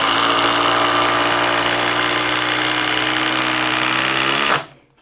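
A Milwaukee 8-inch cordless tool drives in a driving test, a loud, steady motor whine held for over four seconds before cutting off abruptly.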